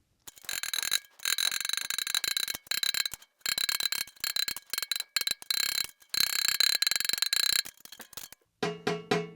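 A drum key turns the tension rods on a snare drum, giving rapid close ratcheting clicks in repeated bursts separated by short silences, ending with a few light ringing taps on the drum.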